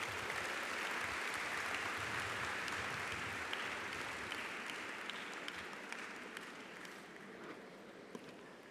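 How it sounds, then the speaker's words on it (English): Sustained applause from a graduation ceremony audience for an honorary doctorate recipient: dense, steady clapping that fills the whole stretch and fades slightly toward the end, with no talking over it. "Let's give him a round of applause."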